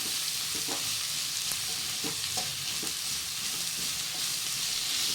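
Ginger garlic paste fries in a pan, with a constant loud sizzle and repeated scraping strokes of a spoon stirring it, close by and with no talking.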